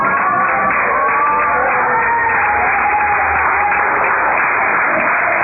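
A church congregation claps hands together in dense, steady applause that fills the room, with voices and sung tones mixed in beneath the clapping throughout.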